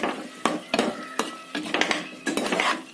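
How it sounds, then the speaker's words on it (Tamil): Tomato thokku with chili powder is stirred in oil in a metal pan, marked by a series of sharp spatula scrapes and clanks in uneven bursts, with little sizzle heard beneath them. "மிளகாய் தூள் போட்டு நல்லா தக்காளியோட மிக்ஸ் பண்ணி எண்ணெயிலே நல்லா வதக்கணும்"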